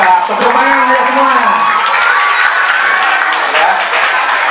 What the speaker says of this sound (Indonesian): Tepuk tangan ya semua.